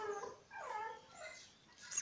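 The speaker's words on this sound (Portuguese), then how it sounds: "Os cachorros ali que estão querendo sair." Faint dogs whine and yelp in the distance, a few short, thin calls rather than full barks, quiet against a still background.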